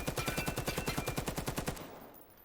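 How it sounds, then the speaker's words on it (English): A suppressed UMP-style submachine gun in the VR shooter Vail fires a fast, steady burst of about fifteen rounds, loud and close, ending abruptly with a brief fading tail. "So it's a nice silenced gun."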